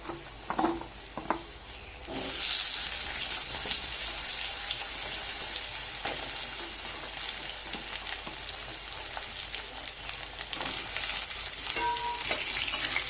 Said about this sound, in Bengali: মাছ ভাজার তেলের মধ্যেই আলু দিয়ে দিচ্ছি,